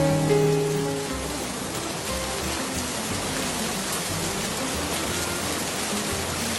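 Steady rain falls in a cartoon scene, a constant soft hiss of drops on surfaces after a brief musical tone fades at the start.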